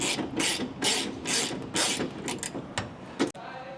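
A ratchet turns a 15 mm bolt on the fuel tank strap of a Dodge Ram Cummins 6.7L pickup, sounding as quick close bursts of clicking strokes with short pauses between them, ending in a sharp clunk.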